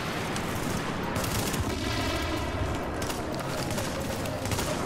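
Gunfire in The Division during a co-op mission at the Hudson Refugee Camp, a dense, continuous barrage of loud overlapping shots throughout, with a brief tonal sound in the middle.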